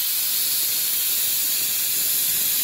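Steam hisses hard from a pressure cooker's whistle on a home stove while dal dhokli cooks, a loud, steady, close rush that runs unbroken with no voices.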